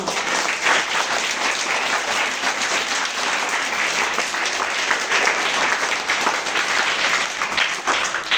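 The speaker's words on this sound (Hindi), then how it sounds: "सबके लिए जोरदार तालियां।" Schoolchildren clap loudly and continuously in a classroom, a dense, even burst of applause close by.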